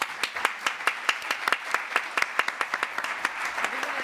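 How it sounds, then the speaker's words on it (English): A conference audience claps for a panel of speakers, steady rhythmic applause from a modest crowd filling the room, with faint voices mixed in beneath it. "we'll give them a big round of applause"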